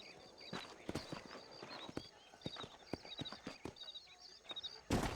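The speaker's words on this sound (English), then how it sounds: "These are fine horses." Horses in the video game Red Dead Redemption clip-clop on the ground in an uneven rhythm of hoof strikes, joined by faint neighing and a louder thump near the end.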